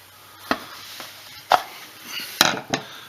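A knife slid into a handmade leather belt-loop sheath, giving a few sharp, close knocks and a soft scraping rub between them, with no voices.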